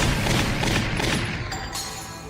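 Gunfire in Valkyria Chronicles Remastered, a loud cluster of shots at the start fading into rumbling echoes over a short stretch.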